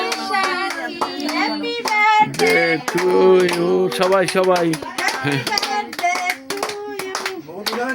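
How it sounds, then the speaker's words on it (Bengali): Hands clap in steady rhythm at a small birthday celebration while a group sings along and a voice calls out over them, the clapping close and mixed tightly under the singing. "হাততালি দাও সবাই।"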